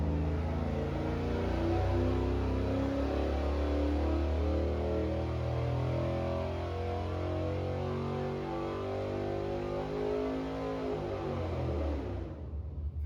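An aluminum L33 5.3-liter LS V8 on open headers roars at wide open throttle on a dyno, a loud sustained droning rip with rising and falling tones for about twelve seconds before cutting off abruptly.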